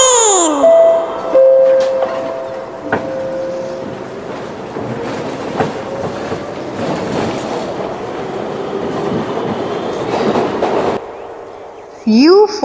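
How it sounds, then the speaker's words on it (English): A train rumbles past with rhythmic clattering and metallic squeals, loud and close, while a voice and a rising whistle-like tone come in at the edges. "T for train."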